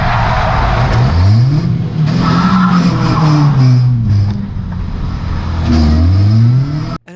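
Loud race car engines rev and whine as a car skids and spins out during a race, tires squealing, with pitch sweeping up and down, then cutting off abruptly.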